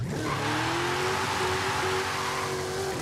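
A car launches hard from a standstill in Forza Horizon 5 with a 7-speed gearbox, its engine droning loudly and steadily as it pulls away, with a faint tire hiss running underneath.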